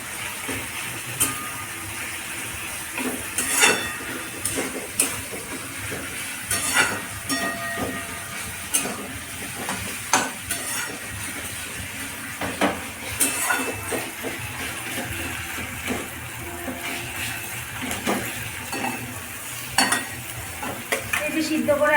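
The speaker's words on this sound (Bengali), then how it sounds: "টমেটো কাঁচা লঙ্কাতে একটু ভাজা ভাজা হলে আলুটা আমি দিয়ে দেবো" Tomato, onion and green chili frying in a pan, a low steady sizzle broken by frequent clattering stirs and scrapes of a spatula across the metal, with faint speech in places.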